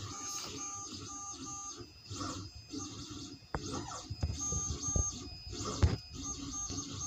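A 3D printer prints a replacement part for a Fendt 815 tractor repair, giving a quiet, steady whirr of stepper motors with small shifting tones and faint clicks throughout.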